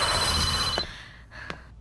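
A telephone rings during a funeral gathering, its electronic tone repeating steadily for about a second before cutting off, followed by a couple of brief sharp clicks against a quiet room background.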